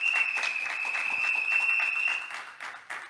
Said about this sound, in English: I'd give them a round of applause, please